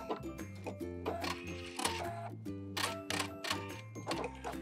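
A sewing machine back stitches along the edge of a dress: quick, faint rhythmic mechanical clatter of the needle running in short bursts, close by with no talking.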